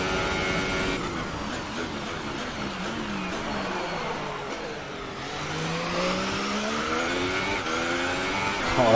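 An F1 car in the racing game F1 2018 at Shanghai's hairpin: a steady engine whine sweeps down as it brakes into the tight corner, then rises again under acceleration, continuous and fairly close.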